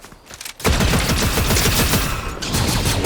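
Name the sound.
gunfire in Fortnite video game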